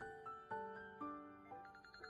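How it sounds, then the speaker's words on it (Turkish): An electronic ringtone plays a repeating melodic pattern of steady tones, clear and fairly close, with no voices. "Telefonun çalıyor."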